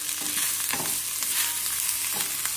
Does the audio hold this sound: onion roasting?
yes